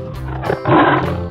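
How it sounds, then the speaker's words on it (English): A tiger gives a loud, close roar that swells and holds for about a second over a steady musical backing. "Tiger,"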